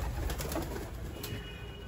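Young pigeons settling into a new coop coo softly and steadily at close range, a continuous low burbling chorus from several birds with no voices over it.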